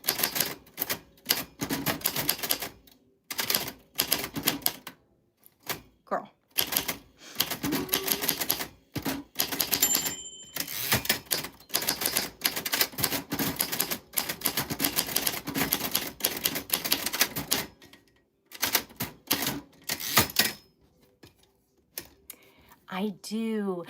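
Typing on a typewriter, with rapid irregular clacks of keys striking close up, brief pauses and a carriage return near the end; a person talks intermittently over it.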